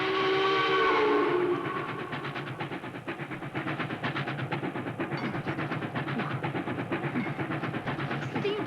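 A steam train sounds a loud whistle, then runs on with rapid rhythmic chuffing and clattering rail noise, close and continuous with no talk.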